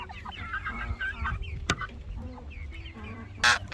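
Turkeys in a pen produce a chorus of overlapping clucks and calls, one louder call ringing out near the end over a busy background of birds at close range.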